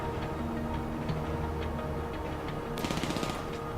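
Rapid bursts of automatic gunfire ring out during a GTA Online drug-gang mission, rattling under a dense wash of game noise and engine hum before a louder close volley near the end.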